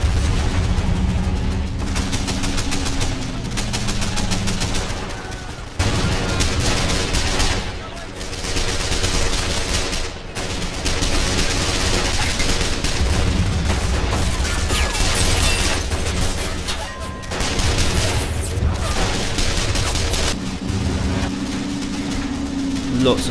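Dense gunfire in the World War II strategy video game Men of War, with bursts of rifle and machine-gun fire overlapping near and far amid engine rumble and fighting noise, continuing throughout.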